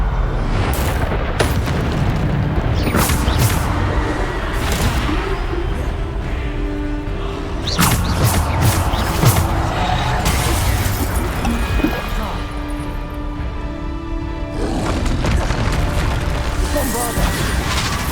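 Spell explosions from Bombarda in the game Hogwarts Legacy, a dense stretch of booming blasts and crashes layered over continuous battle noise, loud and near, with voices calling out throughout.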